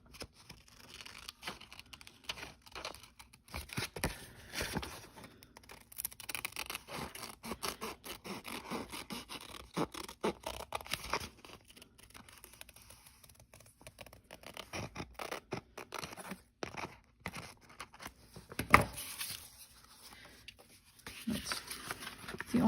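Scissors cutting around a paper envelope being made into a DIY journal, producing steady soft scratchy snips and rustles close by, with brief crinkles and one sharper click near the end.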